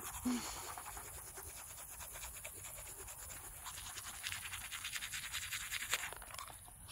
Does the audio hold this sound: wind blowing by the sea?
no